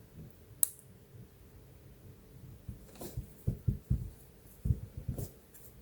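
Computer keyboard keys clicking in quick, irregular bursts, close and fairly quiet, with one sharp tap early and a flurry of clustered taps in the second half; no talking.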